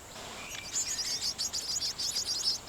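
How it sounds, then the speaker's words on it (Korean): Warblers call near a nest tucked under a bridge in a Korean national park, a faint series of thin, high chirps and tweets repeating rapidly over quiet outdoor background noise. "인기척이 뜸한 틈을 타 어미새가 다리 밑으로 날아들었다."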